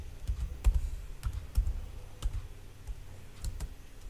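Light, irregular keystrokes on a computer keyboard while code for an object-oriented programming lesson on classes is being entered, soft clicks spaced unevenly over a low room hum.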